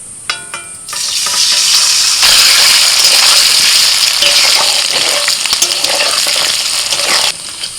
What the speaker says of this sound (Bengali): আমি সর্ষের তেলে করছি এখন পনিরগুলো দিয়ে দিচ্ছি